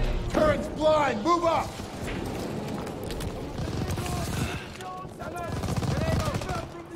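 Gunfire rattles in Call of Duty: WWII after a smoke grenade is thrown, rapid shots running through the clip beneath excited talking from a player.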